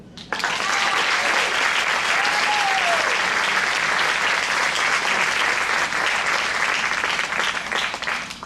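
Sustained audience applause welcoming a speaker onstage for a talk, a dense, steady wash of clapping that starts abruptly and holds loud throughout with a faint whistle or cheer partway through.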